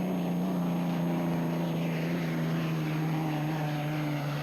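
A turbine-powered racing boat at a 1984 Madison race roars past at around 100 mph, a steady loud high-pitched whine with a strong engine drone throughout, close and continuous with no talk.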